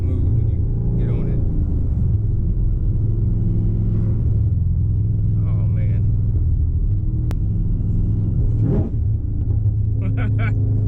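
Supercharged 2018 Chevrolet Camaro ZL1 1LE with full exhaust and a manual gearbox, driving: a loud, steady deep engine rumble and exhaust drone runs throughout, swelling with a brief rev near the end, with people talking over it.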